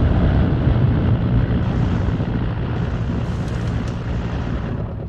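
Airplane engine in the video game Far Cry 6, a steady, loud broadband roar and rumble that holds for the whole stretch after landing, easing slightly toward the end with no talk over it.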